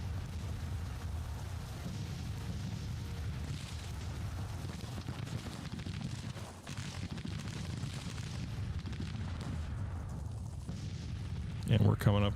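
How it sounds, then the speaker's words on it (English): Artillery fire rumbles through a Civil War strategy game battle, a steady dense barrage of low booms and gunfire held at constant loudness, with a brief sharper burst near the end. "Cavalry's largely just taking artillery fire mainly as a diversion"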